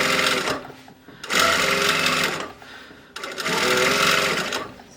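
A sewing machine understitches a collar seam, its motor running in steady loud bursts of rapid stitching separated by short pauses.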